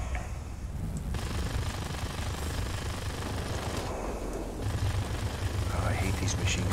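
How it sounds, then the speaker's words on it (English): Rapid aircraft machine gun bursts from World of Warplanes fighters mixed into a continuous roar of engines and battle noise, loud and dense throughout the dogfight. "These machine guns, they're so precise."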